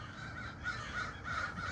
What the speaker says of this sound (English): do you hear the crows?